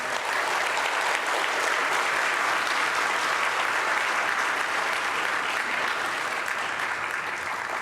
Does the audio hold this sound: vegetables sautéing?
no